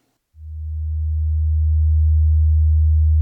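A single steady tone from a Tiptop Audio Buchla 259t digital complex oscillator starts abruptly and holds, low and pure, swelling slightly in loudness before cutting off.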